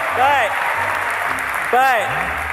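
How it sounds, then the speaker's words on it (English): Audience applause at a campus talk, a broad wash of clapping under someone speaking loudly over it. "Give him a round of applause for that."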